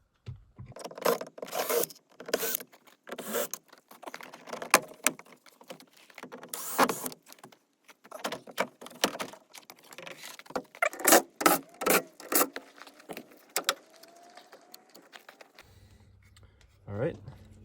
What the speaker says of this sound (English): Let's remove the screws.